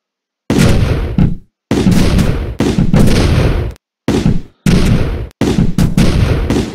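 Shotgun blasts in the tank game Awesome Tanks 2, several loud broadband bursts fired in quick succession with brief gaps between volleys, each trailing off fast.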